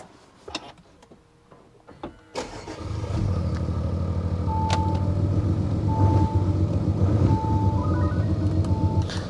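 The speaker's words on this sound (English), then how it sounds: "So if you put it into dynamic, there's a bit of a V8 waffle" An Audi S4 Avant TDI diesel starts after a quiet moment and settles into a steady, loud idle in dynamic mode with a low waffling burble, while a repeated electronic chime beeps over it.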